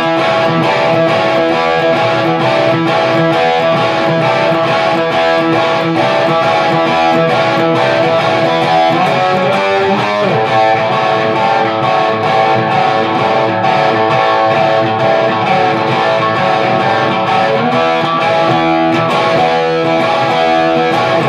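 Slide guitar intro of a song, loud distorted electric guitar with gliding slide notes over a driving rhythm part, playing continuously and densely with no talking.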